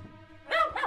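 A dog gives two short barks in quick succession, close and fairly loud after a brief quiet stretch.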